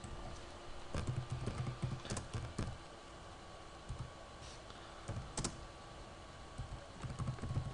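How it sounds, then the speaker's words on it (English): Keys tapped on a computer keyboard while entering search keywords for an eBay listing, quick irregular bursts of close, light clicks with short pauses between. "again I type the relevant keyword"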